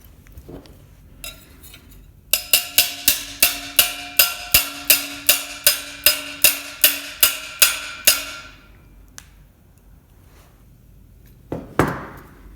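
Hammer tapping on glass neon tubing during bending, about fourteen bright, ringing taps in a steady rhythm, close and clear, with a faint clink before and after.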